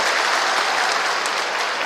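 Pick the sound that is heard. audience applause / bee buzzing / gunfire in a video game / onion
audience applause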